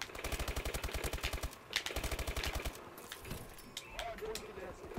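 Rapid automatic gunfire in the video game Call of Duty Advanced Warfare, two fast bursts of evenly spaced shots followed by scattered effects and softer game noise.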